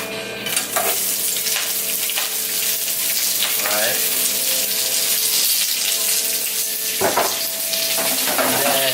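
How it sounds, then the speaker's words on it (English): Peas, cabbage and broccoli slaw stir-frying in a hot pan over medium-high heat, a loud, steady sizzle with occasional scrapes and clatters from stirring. "now that the pan's heat up, we're just going to dump everything in there at once"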